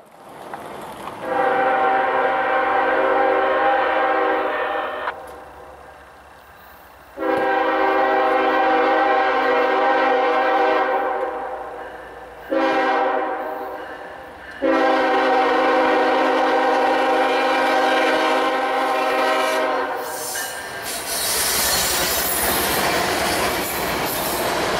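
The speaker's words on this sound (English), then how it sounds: "Next up is NS K47, running northbound out of the siding in the process of running around their train." Norfolk Southern local freight K47 sounds its horn heading northbound out of a siding while running around its train: four long, loud, close blasts with short gaps, the last overlapping rising wheel squeal and rail noise.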